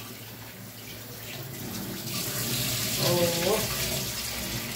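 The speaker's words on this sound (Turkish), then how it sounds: "Poşur poşur yıkıyorum." Tap water runs steadily into a sink as vegetables are washed, a broad continuous rush that swells louder midway, with a brief voice over it.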